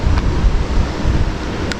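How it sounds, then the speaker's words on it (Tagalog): Strong wind by the sea, a loud, gusty rumble buffeting the microphone with a dull wash of surf beneath, filling the short clip without any talk. "Ang kaso medyo mahangin po sa dagat."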